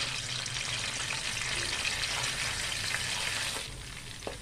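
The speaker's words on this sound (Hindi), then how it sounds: "1 से 2 मिनट तक इसको फ्राई करेंगे।" Ginger garlic paste fries in half a cup of oil with cumin seeds and bay leaves, a steady close sizzle and crackle that softens slightly near the end, with a brief stirring clink.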